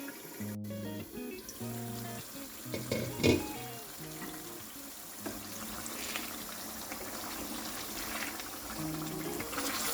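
Egg stew cooks in a pot with a steady, soft sizzle and bubbling throughout, joined by light stirring scrapes and a faint musical tone in the background.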